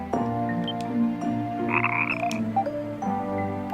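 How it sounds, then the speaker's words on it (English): A frog in the video game Ys: Memories of Celceta croaks a few times over sustained game music, the croaks rising loud and throaty above the score. "This frog seems afraid to go back into the river."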